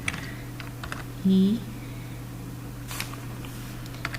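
Sparse keystrokes tap on a computer keyboard while entering text in an Excel window, with a brief electronic tone partway through and a person speaking over the clicks.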